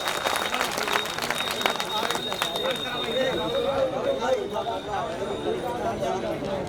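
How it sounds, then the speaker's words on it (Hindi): A crowd at an outdoor political rally clapping to welcome the chief guest, dense scattered applause that thins into chatter and a voice over a loudspeaker. "आप लोग जोरदार ताली बजाकर माननीय मुख्य अतिथि"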